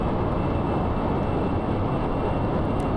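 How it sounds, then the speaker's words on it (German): Aircraft jet turbines running in the Kerbal Space Program video game, a steady dense roar holding evenly throughout with no pauses or voices. "man hört schon, die Flugzeugturbinen sind am Arbeiten"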